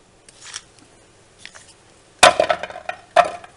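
Knife chopping peeled carrots into big chunks on a board, two sharp crisp cuts after quieter handling sounds.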